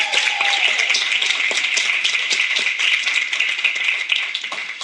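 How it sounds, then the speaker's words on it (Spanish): Audience at a live comedy festival show in Miami breaks into loud, sustained clapping and applause, a dense crackle of many hands that continues steadily without talk. "Un aplauso para él."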